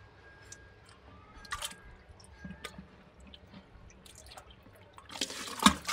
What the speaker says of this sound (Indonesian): tanah lumpur ini bisa teman-teman dapatkan di sawah maupun di kolam ikan ini kita masukkan saja